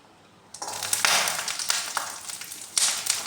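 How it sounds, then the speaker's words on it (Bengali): Garlic frying in oil over a slow flame while being stirred, giving a steady close sizzle with scraping and stirring bursts throughout. "রসুন আস্তে আস্তে নাড়তে হবে স্লো ফ্লেমে"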